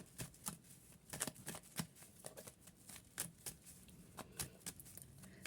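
A Rider tarot deck is shuffled by hand in a quiet room, its cards riffling and slapping in quick irregular bursts with short pauses between them; no one speaks.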